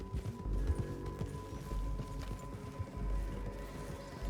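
Horses clip-clop through the Red Dead Redemption 2 game world, a steady busy patter of hooves moving at a trot, loud and close, with ambient game sound underneath.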